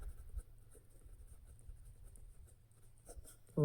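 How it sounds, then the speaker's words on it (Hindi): Pen or marker writing Hindi-taught maths equations by hand for a Class 10 arithmetic progressions lesson, a faint steady scratching of strokes on paper alone, no voice. "तो चलिए आगे हम लोग अब समीकरण लिखेंगे।"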